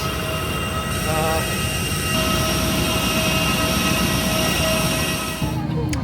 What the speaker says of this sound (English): It's a plane! It's a plane!